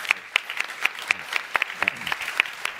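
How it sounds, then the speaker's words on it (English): Sparse applause from a small audience at a conference event, distinct individual claps popping out irregularly over a soft background. "This is your applause."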